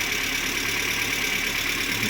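A car engine idles on LPG through a STAG 200 gas unit, a close, steady and even running hum with a faint regular mechanical clatter and no voices.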